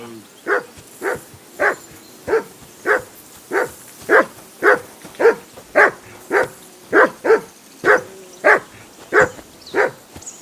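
A dog in the medieval game Kingdom Come Deliverance II barks over and over at a steady, even pace, each bark loud and near, with slight whining between them.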